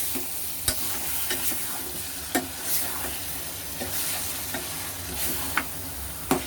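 Chicken curry sizzles steadily in a hot pan while a spoon stirs it, with periodic sharp scrapes and clinks against the pan at irregular intervals over continuous frying hiss.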